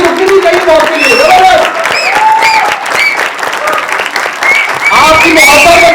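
Audience at a book launch in December 2023 rising into a standing ovation, dense sustained clapping and crowd noise filling the room close and loud, with voices calling out over the applause.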